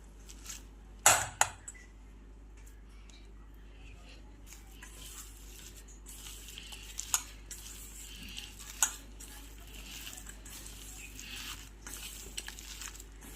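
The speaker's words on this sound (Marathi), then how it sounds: "तर छान असं हे मिश्रण एकजीव करून घेणार आहोत।" Cabbage fritter batter being mixed in a bowl, with scattered soft scraping and stirring clinks, a few sharper utensil knocks against the bowl, over a low steady kitchen background.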